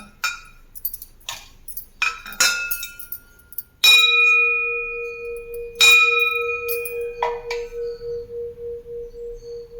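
An old flat-bottomed antique bronze vessel, about 8 inches wide, is tapped with a few light clinks and then struck twice. Each strike rings out loud and clear with a long, slowly pulsing sustain that fades gradually.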